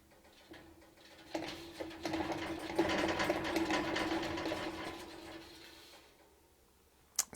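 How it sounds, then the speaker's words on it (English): A chin spin chinchilla exercise wheel rattles and whirs steadily for several seconds as the animal runs, fairly quiet, with a brief knock at the end. "if you have a chin spin and it's making more noise than you anticipated"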